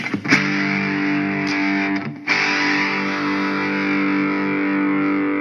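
Sustained crunchy distorted electric guitar chord through a Blackstar Amped 3 amp on its crunch setting, ringing loud and steady, with a brief break before it's struck again.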